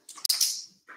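A dog whimpering indoors at night, a short high-pitched whine with a couple of quick yips, faint and close, followed by a brief soft sound near the end.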